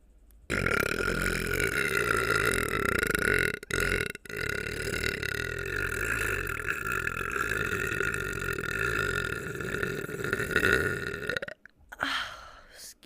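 One very long, loud, drawn-out human burp lasting around ten seconds, up close, broken by a couple of brief gaps before it trails off.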